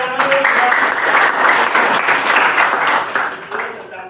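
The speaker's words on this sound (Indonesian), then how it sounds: "Baik, tepuk tangan dulu." A classroom group gives a lively round of clapping that runs dense and loud for about three seconds, then thins and fades toward the end.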